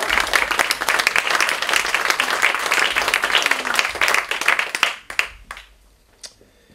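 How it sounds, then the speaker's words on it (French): A live audience applauds at a humorous visual-recap event, dense steady clapping for about five seconds before quickly thinning to a few scattered claps and fading out. "Applaudissements encore pour Gilles."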